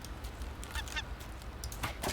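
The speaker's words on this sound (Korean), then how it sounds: "새가 왔어요." Seagull cries in the video game Raft, set on a raft adrift at sea: several short, sharp honking squawks come in bursts at moderate distance over a low ambient rumble.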